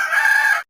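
A rooster gives a single short, loud crow heard up close, a bright sustained call that cuts off sharply after under a second.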